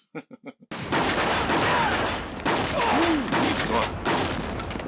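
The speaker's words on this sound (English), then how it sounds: "Love the sound of the gunshots. Well, the shotgun." A handful of quick, sharp blasts, then a dense, roaring barrage of gunfire with heavy shotgun booms, loud and continuous, an intense shootout in the 1997 film L.A. Confidential.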